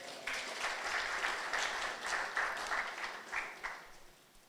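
Church congregation clapping together during a French-language book presentation by a pastor, a steady, dense wash of applause lasting several seconds with swells and small peaks, no talking over it.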